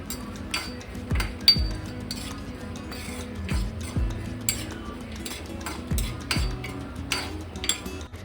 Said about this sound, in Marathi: खोबरं खोबरं गरम परतून घेते आई ब्राऊन कलर जोपर्यंत ब्राऊन कलर होत नाही तोपर्यंत आई परतत राहणार आहे